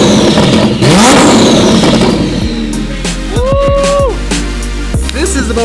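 Rebuilt twin-turbo Lamborghini engine revving hard with boost, loud and close, with sharp throttle blips and pitch sweeps rising and falling over a steady low rumble.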